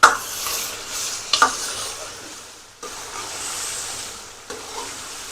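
Chicken karahi tossed with spices in a hot pan, a steady sizzle with repeated scraping strokes of the spoon, loud and close, no voices.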